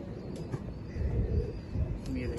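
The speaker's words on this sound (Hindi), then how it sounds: "ये देखें सारे ब्रीडर कबूतर हैं, सारे आउट क्लास, सारे मेन कबूतर हैं सरदार साहब के।" Breeder pigeons in a rooftop loft coo in low, throaty rumbles, several birds close by, with faint chirps and background noise.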